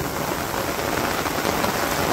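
Rain falls in a Bangladesh village as a continuous broadband wash of patter, moderately loud and uniform, with no voices or distinct events standing out.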